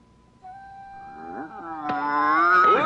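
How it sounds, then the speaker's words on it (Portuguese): A cartoon stomach growl from a Darkwing Duck episode: a drawn-out, rising rumble that swells and warbles, building louder toward the end, with no talk over it. "Poxa, minha barriga já está roncando."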